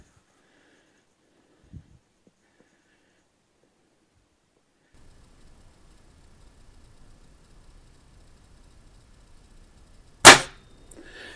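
A single loud, sharp report from a Stoeger S3000 C rifle at a shooting range rings out after a long stretch of near silence and faint low rumble.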